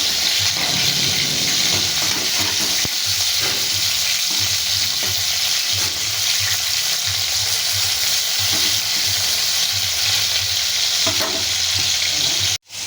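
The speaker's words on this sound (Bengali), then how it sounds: "এবারে আমি মাছগুলোকে উল্টে দিয়ে অন্য পিঠ ঠিক একইভাবে ভেজে নেব" Pieces of bhola fish frying in hot oil in a pan, a loud, continuous sizzle that runs unbroken, with faint clinks of a utensil beneath before it cuts off abruptly at the end.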